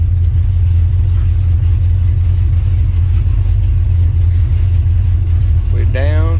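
A car with a 440 engine, its power steering lines not yet fitted, rumbles loud and close while moving slowly in a driveway. A brief voice comes in near the end.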